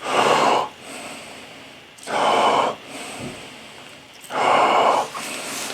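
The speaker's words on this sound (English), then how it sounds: "Breathe in, hold. Exhale." Deep power breathing in a breathing class: three loud, forceful breaths about two seconds apart, each a sharp rushing exhale or inhale close to the mic, with quieter airy breathing between them and no talking.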